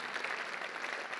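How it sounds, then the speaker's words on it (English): Brief, steady applause from a luncheon audience at Dickies Arena in Fort Worth during a State of the City event, a dense wash of clapping heard at moderate distance. "Let's give them a round of applause really quickly."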